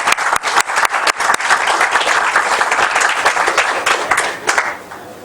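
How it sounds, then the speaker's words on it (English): An audience at a tech day event applauding a speaker, dense close clapping that runs steadily for several seconds before thinning and fading near the end. "So let's clap for Chetan bhai again."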